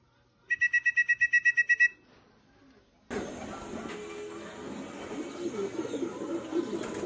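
Pigeons calling outdoors at a racing-pigeon training release. A rapid run of about a dozen clear, evenly spaced calls comes first, then a pause, then steady outdoor background noise.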